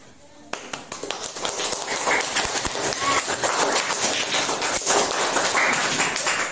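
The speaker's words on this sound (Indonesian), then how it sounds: "Beri aplaus untuk kelompok 3" A classroom of students applauding for group 3, a dense burst of clapping starting sharply and continuing loudly, with a teacher's voice over it.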